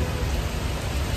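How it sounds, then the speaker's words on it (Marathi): Heavy rain pours steadily in a constant hiss of dense drops, loud and even throughout with no voices. "पण पक्का पाऊस आला म्हणून थांबलो इथं"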